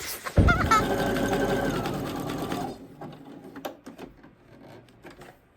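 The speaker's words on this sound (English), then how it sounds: "I am sewing all these patches on with this zigzag stitch." A sewing machine runs a zigzag stitch to attach fabric patches, a fast, close mechanical whirring for about two seconds before stopping. Faint clicks and handling noises follow.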